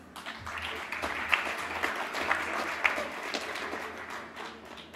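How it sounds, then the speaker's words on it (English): Graduates at a university conferring ceremony for the Faculty of Applied Sciences and Technology are applauded by the audience, a moderately loud, steady patter of many clapping hands with a few sharper claps standing out, fading slightly at the end. "A big congratulations and applause for the Applied Sciences graduates."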